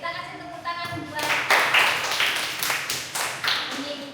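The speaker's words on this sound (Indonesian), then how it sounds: "kita kasih tepuk tangan buat" Classroom audience clapping for a student group in a university teacher-training session, a short scattered burst of hand claps after a voice, fading as speech resumes.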